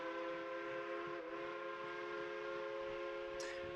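A train whistle sounds as a sustained, loud multi-tone chord held steadily for several seconds without a break, with no speech over it.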